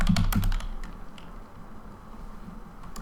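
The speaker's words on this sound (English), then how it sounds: "that keyboard sound" Rapid typing on a computer keyboard during a Warframe gaming session, a dense close burst of clacking keystrokes that starts loud and then thins into scattered lighter taps.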